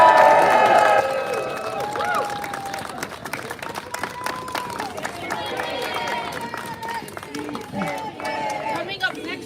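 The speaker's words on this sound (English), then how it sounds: "A round of applause, please, for Lucia!" Audience applause at a press conference on immigrant rights, starting with a loud burst of clapping and cheers that settles into steady, moderate clapping mixed with crowd chatter and voices.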